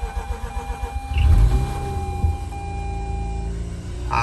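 A Mazda RX8 rotary engine cranks and starts after sitting overnight, a loud starter burst around a second in settling into a steady idle with a brief blip, heard up close with no talking.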